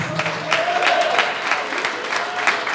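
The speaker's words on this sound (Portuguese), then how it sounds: "Dá uma salva de palmas para Jesus." A church congregation claps in praise during an Assembly of God service, a steady wash of hand claps with a faint voice or tone running beneath, moderately loud and close throughout.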